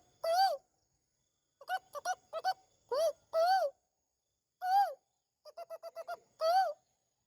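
A man imitating a variety of bird calls with his mouth, a run of clear whistled hoots and trills in short bursts and quick repeated chirps with silent gaps between them, close and clean.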